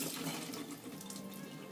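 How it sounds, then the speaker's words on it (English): Water from a kitchen tap splashing steadily over raw shrimp being rinsed, a brief continuous close-up gush and patter. "So all I did is I'm just going to rinse them really quick"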